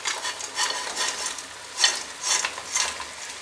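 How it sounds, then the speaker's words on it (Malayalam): Fried fish being stirred into pickle masala for a Kerala-style fish pickle, a run of soft scraping stirs with a faint sizzle in a regular rhythm, close by and without talk. "ഇനി നമുക്ക് ഇതിനകത്തേക്ക് നമ്മൾ ഫ്രൈ ചെയ്ത് വെച്ചിരിക്കുന്ന മീൻ ചേർത്ത് നന്നായിട്ട് മിക്സ് ചെയ്തെടുക്കാം."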